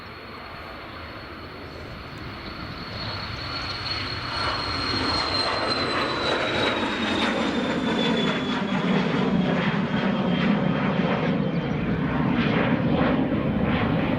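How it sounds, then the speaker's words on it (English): A Cessna Citation business jet at Edinburgh Airport, its engine whine and roar growing steadily louder as it passes fairly near, with a descending high whistle over a broad rushing rumble. "here goes the citation"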